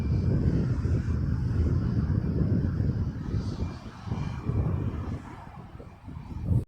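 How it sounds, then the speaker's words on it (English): A fixed-wing airplane passes near Birmingham Airport, a steady loud engine roar that dips slightly and wavers toward the end, heard from the ground with no talk. "I'll just watch this plane first, and then I might be able to show you the Kestrel falcon bird. Maybe when this plane stops."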